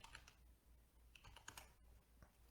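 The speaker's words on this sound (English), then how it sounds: "All right, I'm typing here." Soft, quick keystrokes patter on a computer keyboard in an irregular rhythm, faint and close, with no voices.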